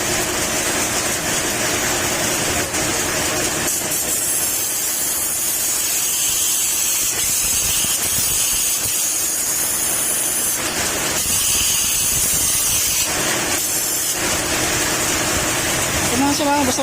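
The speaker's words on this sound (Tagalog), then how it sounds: "Spray mo ulit. Iubos mo na yung laman yan." A loud, continuous hissing spray of water onto a Honda Click 125 motorcycle engine, with a brief change in texture partway through, dense and close throughout.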